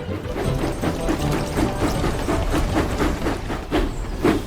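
Thomas the Tank Engine puffing steadily away on the rails, a regular chuffing rhythm of steam bursts with rolling clatter underneath, moderately loud and close throughout with no voices.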